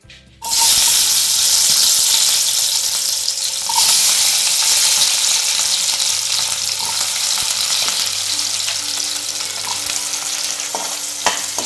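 Crushed shallots, pounded in a mortar, sizzle and fry steadily in a hot pan for beef chukka, a loud continuous crackle with occasional stirring, no voices.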